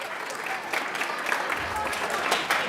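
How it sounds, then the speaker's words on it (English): A school audience applauds eighth-grade jazz band soloists at a middle school winter band concert, with steady, moderately loud clapping from a crowd heard throughout. "Let's give a particular round of applause to Jacob Mitchell, Camden Anstrop, and Leah Kalinsky, 8th graders solos in that performance."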